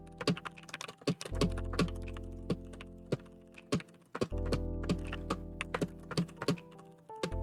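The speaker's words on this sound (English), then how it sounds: "Just start typing at my opponent" Rapid keystrokes on a computer keyboard, irregular clusters of sharp clicks over a low steady hum, close and fairly quiet, with no talking.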